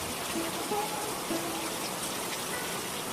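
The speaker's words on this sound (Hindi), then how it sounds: "तेज बारिश हो रही थी।" Heavy rain pours steadily, a dense, constant hiss of drops with no breaks or voices throughout.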